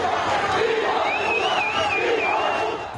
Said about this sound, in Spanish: han sido recibidos con insultos y abucheos